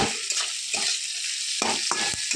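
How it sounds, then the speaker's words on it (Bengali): Thinly sliced potato and onion fry in a wok with black cumin, a steady hot sizzle broken by several scraping stirs of a spatula, close and fairly loud. "আর তার মধ্যে দিলাম ঝিরিঝিরি করে কেটে রাখা আলু আর পেঁয়াজ"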